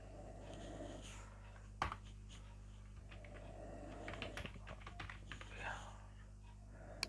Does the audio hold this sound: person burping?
no